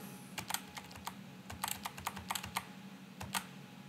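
Someone types a login username and password on a computer keyboard, with quick irregular clusters of light key clicks in short bursts over a faint steady background hum.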